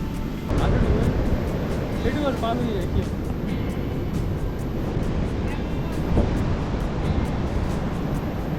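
Monsoon sea surf breaks on a Kerala beach in a steady, broad wash of rushing water, with wind buffeting the microphone and indistinct voices faintly in the background.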